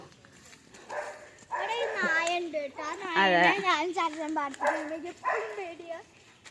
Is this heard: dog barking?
yes